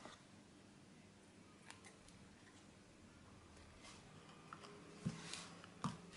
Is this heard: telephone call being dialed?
no